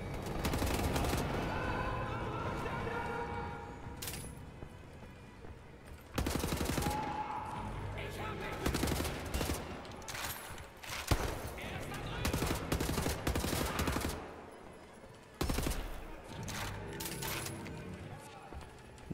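Gunfire in Wolfenstein: The New Order, dense bursts of rapid automatic shots that start and stop across the clip, loud and close, with someone talking between and over the volleys.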